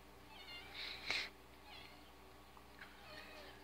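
Cat meowing faintly indoors during a beauty product unboxing, one short mewing call in the middle over low room hum, with a soft second sound later.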